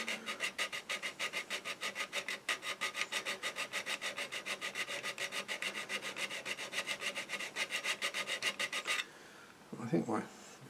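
A hand file rasps across a plastic model kit part in rapid, even back-and-forth strokes, close and continuous for about nine seconds, then stops, followed by a brief scrape near the end.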